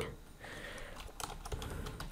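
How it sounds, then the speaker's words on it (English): Typing on a computer keyboard while adding text to a Wix website page, a steady run of close, crisp key clicks with a few louder taps, no voices. "And here I'm typing"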